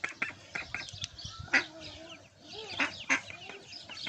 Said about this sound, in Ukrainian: Маленькі, дикі качки.